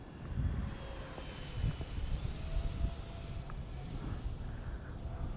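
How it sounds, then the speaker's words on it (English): A Pocket Rocket RC plane cruises at half throttle, heard from a distance as a faint, steady high-pitched motor whine with slight pitch shifts over wind noise, no voices. "I'm going to just kind of fly this thing like normal right now."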